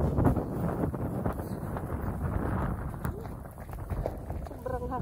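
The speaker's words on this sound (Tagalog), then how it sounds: "grabe yung hangin pa na." Strong wind during a snowstorm buffets the microphone outdoors, a loud continuous rushing roar with gusty surges and brief thumps throughout.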